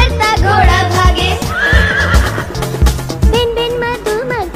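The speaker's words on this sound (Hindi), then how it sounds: "हिन हिन करता घोड़ा भागे," A horse whinnies loudly in a Hindi nursery rhyme, a rising and falling neigh over bouncy, prominent backing music.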